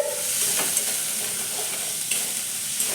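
A steady, close sizzle of frying as garlic, ginger, dried chilli, spices and turmeric are stirred in a hot pan, with soft scraping strokes over continuous crackling oil and no talking.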